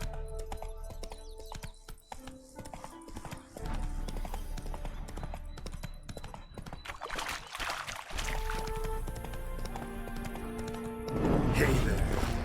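Hoofbeats of Roach, a horse in The Witcher 3, clop in a steady rhythm under game music and spoken dialogue, with louder rustling and splashing effects building toward the end.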